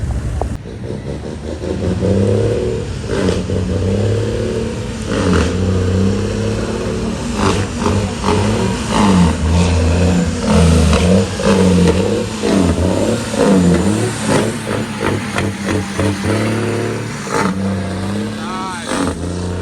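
Truck engine revving loudly and repeatedly at an outdoor truck show, rising and falling in pitch over nearly twenty seconds with crowd noise and voices mixed underneath.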